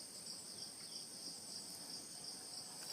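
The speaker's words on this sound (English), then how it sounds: "As you can hear from the background, the heights, the sound of the cricket" Crickets chirp steadily in an outdoor natural setting, a continuous high-pitched shimmering trill that holds at an even, moderate level throughout with no voices over it.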